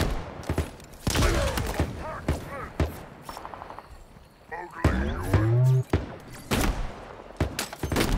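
Shotgun blasts in the Halo Infinite video game ring out as a string of sharp, loud bursts with ringing tails, spaced unevenly amid other game effects, while an excited voice talks over the action.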